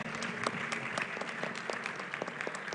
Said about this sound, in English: A round of applause, please, for our ladies up here.